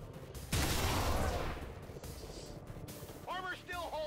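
A single loud gunshot from a soldier's weapon in the turn-based strategy game XCOM 2 rings out and trails into a decaying tail, with a voice speaking briefly afterward over game ambience.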